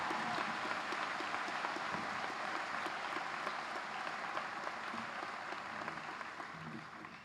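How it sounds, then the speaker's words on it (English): A graduation audience at a high school ceremony applauds a student speech, a broad, steady wash of clapping from a large crowd that fades slightly toward the end. "Can we give Rania Almadici another round of applause?"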